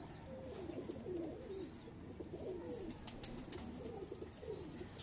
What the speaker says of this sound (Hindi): बेसिकली सलारे कबूतर बुरा मान रहा है बहुत ज़्यादा,